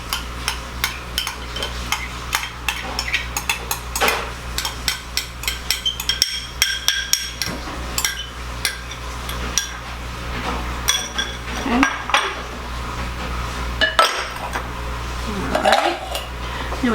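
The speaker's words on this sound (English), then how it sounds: "I'm just going to stir this around so that it gets mixed" A spoon scrapes and clinks against a pot while baked bean ingredients are stirred together with sugar, brown sugar, ketchup, mustard, Worcestershire and fried bacon, giving irregular metallic knocks and scrapes, close and fairly loud.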